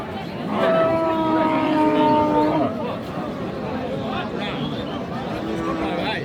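Cattle moo loudly and close at a rural cow market, one long drawn-out call early on and a shorter moo later, with men bargaining and chatting around them.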